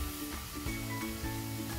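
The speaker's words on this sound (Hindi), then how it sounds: "कटे हुए लहसुन, बारीक कटा हुआ अदरक और बारीक कटे हुए प्याज। इन सभी चीजों को हम गोल्डन ब्राउन होने तक पकाएंगे" Chopped garlic, finely chopped ginger and onion fry in a pan for palak paneer, giving a quiet, steady sizzle that runs throughout under faint background tones.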